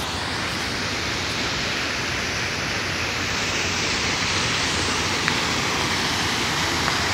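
A waterfall's rushing water roars in a broad, constant wash of noise, loud and close, with no break through the clip.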